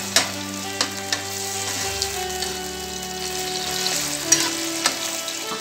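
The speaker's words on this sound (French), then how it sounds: "On mélange bien le poulet avec l'ail et l'oignon." Chicken with garlic and onion sizzles in a pan as it is stirred, steady frying crackle broken by light scraping clinks of the utensil.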